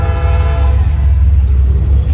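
Street-running train passing close by, a loud, steady low rumble and roar that fills the whole stretch without letup, no voices over it.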